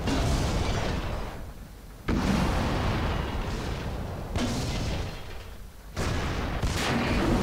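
Heavy artillery fire in World of Tanks, with KV tank gameplay, comes as four long, loud rumbling blasts that each hold for about two seconds, close and dense with no talk.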